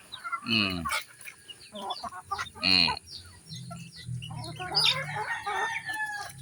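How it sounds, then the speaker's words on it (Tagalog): Chickens cluck and crow in a small backyard coop while feeding in the early morning, with several birds close by, bursts of clucking and a rooster's crow over a low murmur. "Ayan sila kumakain sa munting manukan natin."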